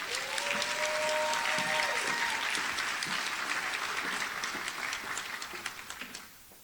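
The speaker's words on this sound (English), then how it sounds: "Let's give a round of applause to Ms. Cheiron Purnell" Audience applause at a school district Teacher of the Year ceremony, sustained clapping from a crowd that gradually fades out near the end.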